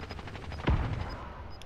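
A shooter video game fires a short burst of gunfire, one sharp loud crack followed by a ringing tail, heard close with no talk over it.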